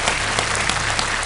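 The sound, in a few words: studio audience applause on KBC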